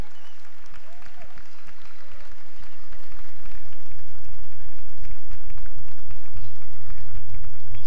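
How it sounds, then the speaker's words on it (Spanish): At an award ceremony for the Arirang Concour México 2024 Korean cultural contest, audience clapping rises and grows louder over several seconds, accompanied by a strong low hum from the hall and faint voices. "Aplauso fuerte para Ándre."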